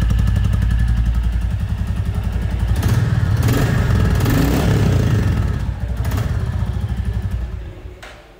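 A 2023 Royal Enfield Bullet idles in neutral, then its engine revs up loud and close, a steady thumping exhaust note that swells midway and drops off at the end.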